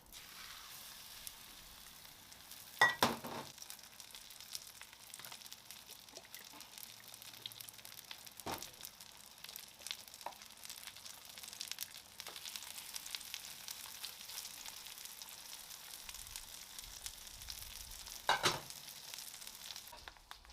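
Chicken breasts fry in hot olive oil with a steady, soft sizzle that runs throughout, broken by a few louder crackling bursts and faint clinks.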